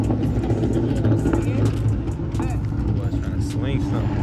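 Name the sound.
Ford Mustang Shelby car being driven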